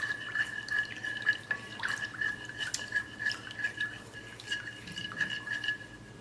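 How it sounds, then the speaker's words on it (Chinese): A spoon stirs a mixture of milk, sugar and yeast in a bowl, making steady, close scraping and faint clinks against the bowl under a constant background hum, with no talking. "加入150克的纯牛奶，把所有的食材充分的搅拌均匀。"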